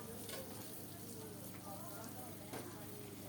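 Rohu fish frying in a pan in a home kitchen, a faint steady sizzle and crackle of hot oil that holds throughout, with low voices in the background.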